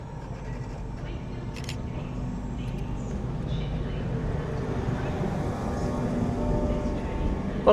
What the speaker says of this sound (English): Getting ready to depart now with your 1313 LNER Intercity 225 set from Leeds through to London King's Cross